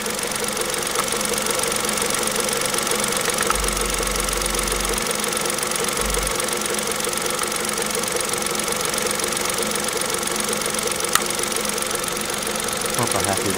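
A Kia Picanto engine idles steadily with a constant mechanical drone and a faint rubbing, grinding bearing undertone running throughout.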